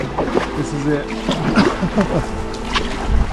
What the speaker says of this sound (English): In case you're wondering what it's like to try to paddle up here at max ebb,